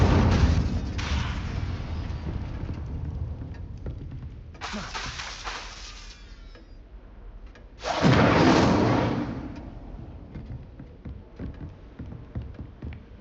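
Incendio fire spell cast repeatedly in Hogwarts Legacy, giving several loud whooshing, booming bursts that rise sharply and trail off, one especially strong near the end, over a steady low game rumble.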